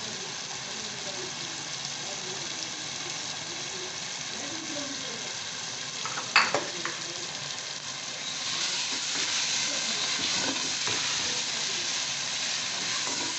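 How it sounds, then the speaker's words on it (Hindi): Cauliflower frying in a pan for a mixed vegetable sabzi, a soft continuous sizzle with clattering stirring strokes in the middle and the frying growing louder toward the end. "फूल गोभी डालने के बाद तकरीबन 5 मिनट इसे भूनेंगे।"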